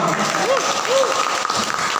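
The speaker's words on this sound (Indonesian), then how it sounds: "Tepuk tangan dong." An audience at a digital marketing training session claps, a dense steady patter of applause filling the room with faint voices mixed in.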